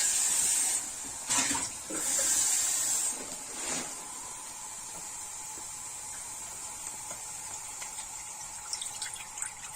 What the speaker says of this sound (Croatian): I nalijemo malo vodom.